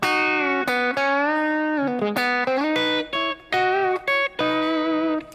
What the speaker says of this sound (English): It's kind of like a fat lead sound,